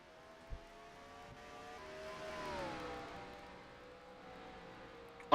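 Race car engines in the NASCAR Racing 2003 game, a faint engine drone rising and falling in pitch as cars pass, ending with a sudden loud burst.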